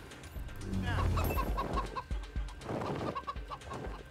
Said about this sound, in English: The chickens are making me nutty.